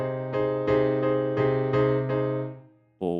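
Piano plays the chords of a song in a steady eighth-note rhythm, six evenly spaced struck chords ringing out, then a pause and a new chord at the end, alone with no talking.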